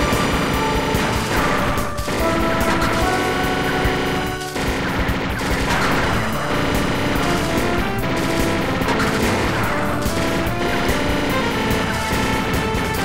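Enemy shots and gunfire in the video game Supercharged Robot Vulkaiser sound as rapid, repeated bursts and crashes. They run continuously over loud in-game music.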